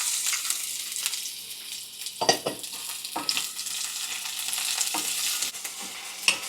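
Garlic and onion sautéing in a pan, a continuous bright sizzle broken by repeated scraping strokes of a spatula, close and fairly loud with no voices.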